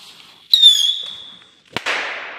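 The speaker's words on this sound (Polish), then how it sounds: "To jest chyba ta rakietka sygnowana logiem Scream, tą serią od Klaska. Odpalmy ją najpierw." A Scream series firework rocket from the Klasek brand launches with a loud, shrill whistle that fades over about a second, then a sharp close bang followed by a hissing, crackling burst dying away.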